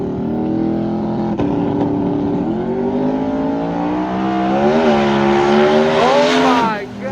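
Rear-wheel drive drag race car accelerating hard down the track in an AWD vs RWD shootout, a loud sustained engine note climbing steadily in pitch through gear changes, with excited voices talking over it.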